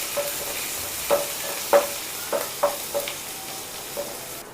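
Crushed garlic and ginger frying in a pan, a low sizzle broken by a series of irregular stirring scrapes and clicks, no voices.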